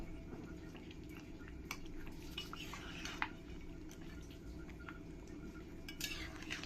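Spoon stirring curd into chicken in a cooking pan over a low flame: quiet, steady scraping with scattered light clinks against the pan, all at a low level.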